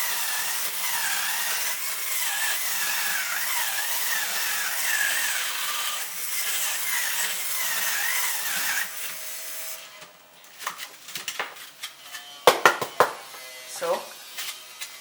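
A small drill in a Lego EV3 craft tool machine whirs steadily at a high, wavering pitch for several seconds, then stops, followed by scattered clicks and taps.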